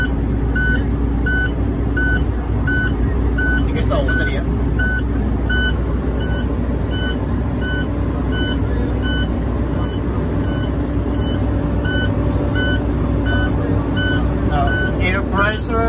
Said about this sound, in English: So the air compressor working.